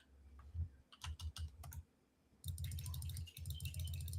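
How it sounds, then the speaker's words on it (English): Game cards from the Elder Sign board game being shuffled by hand: short bursts of soft riffling clicks come first, then a longer steady riffle, close and alone with no talking. "Give that a shuffle."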